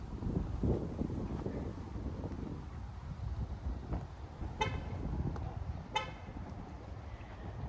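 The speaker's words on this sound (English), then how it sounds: "Why do we normalize closing the car with this honking sound?" A car's horn gives two short chirps as it locks, set apart by about a second and heard outdoors over wind buffeting the microphone.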